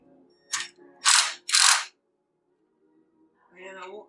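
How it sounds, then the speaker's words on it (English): A ratchet clicks in three quick bursts while tightening a bolt on a fuel sending unit during fuel gauge installation, followed by a brief voice. "tighten that bolt and then check it"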